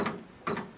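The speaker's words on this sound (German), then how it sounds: "Jetzt öffnet sich die Kasse." A Sharp XE-A177X electronic cash register gives two short clattering bursts about half a second apart as the cash drawer releases and opens, close and moderately loud.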